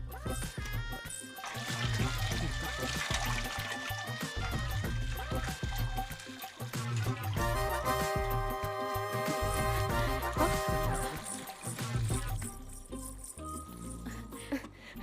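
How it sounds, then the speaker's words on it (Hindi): Water is poured over a Nandi idol during an abhishek ritual, a steady splashing trickle that runs for several seconds with a brief pause in the middle. Soft rattles and background sounds accompany it. "पर जल डालकर अभिषेक करो बेटा"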